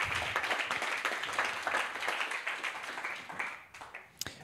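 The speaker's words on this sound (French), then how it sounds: "Alors, on peut l'applaudir." An audience at a round-table discussion on rurality claps to welcome a guest. The applause is lively and close, with many hands, and thins toward the end into a few separate claps.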